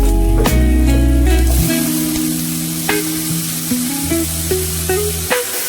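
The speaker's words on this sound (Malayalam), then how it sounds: "ഉള്ളി, ഇഞ്ചി, പച്ചമുളക് ഇട്ട് കൊടുക്കാം. എന്നിട്ട് നന്നായിട്ട് മിക്സ് ചെയ്യാം." Onion, ginger and green chili sautéing in a pan for squid fry, a loud close sizzle with a spatula scraping and stirring in irregular strokes, no talk.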